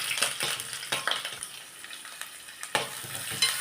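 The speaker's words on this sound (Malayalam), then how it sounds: "രണ്ട് തേങ്ങാക്കൊത്ത് ഇട്ടൊന്ന് ചൂടാകുമ്പോഴത്തേക്ക്" Coconut pieces frying in a hot pan make a crackling sizzle, broken by quick spattering bursts and light stirring scrapes. Nobody speaks.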